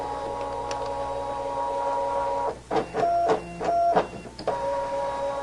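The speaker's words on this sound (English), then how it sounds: "I'm going to say start, and we're going to test cut." A Brother ScanNCut cutting plotter whirs with a steady motor hum through a test cut, broken by a few brief clicks and stepped carriage movements midway, close and alone.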